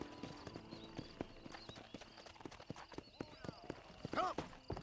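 A horse trotting in Red Dead Redemption, a quick steady clip-clop of hooves close by, with someone talking in places and a brief whinny near the end.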